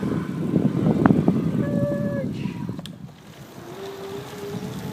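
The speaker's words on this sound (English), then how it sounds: "There's the motor kicking in." An electric motor on a Biria city bike engages with a faint, rising whine under heavy wind rumble and buffeting while riding outdoors.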